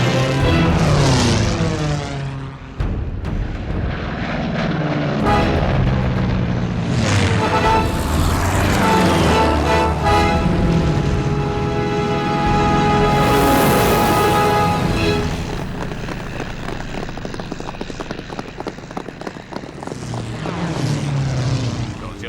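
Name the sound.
propeller fighter plane flying in film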